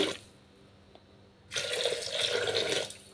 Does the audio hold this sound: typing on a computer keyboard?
no